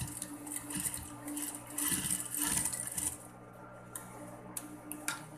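A sewing machine stitches a small child's garment in a quick, close run of ticking needle strokes that stops, followed by a few light mechanical clicks and taps.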